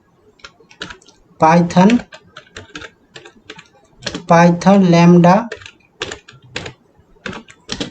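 Python lambda function code being typed on a computer keyboard, rapid clusters of close key clicks in bursts, with someone speaking briefly between them.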